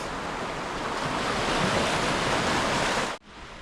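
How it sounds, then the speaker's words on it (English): Surf rolls steadily onto the beach at Hope Gap below the Seven Sisters cliffs, a loud continuous wash of breaking waves with some wind, cutting off abruptly near the end. "we're right down on the beach here"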